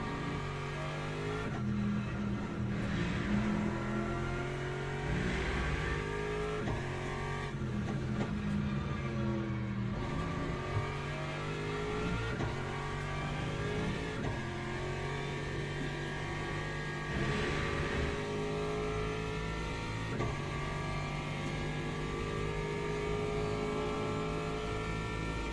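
Hypercar engines roar in a racing video game at Spa Francorchamps, a steady dense drone of revving motors with shifting pitch that stays loud and continuous throughout, with no talk.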